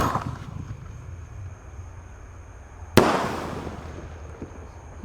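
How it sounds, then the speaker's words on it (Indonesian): A Bima Sakti 4-inch Roman candle firework launches outdoors with one sharp, loud pop, then a trailing hiss and rumble that fades over the next couple of seconds. "yang kita nyalakan di sini ada Bima Sakti Roman candle ukuran 4 inci guys"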